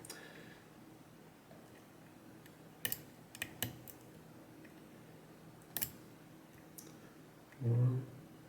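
Pins of a Lockwood lock being picked, a few tiny, faint clicks scattered irregularly and close up over quiet room noise, ending with a brief low thump.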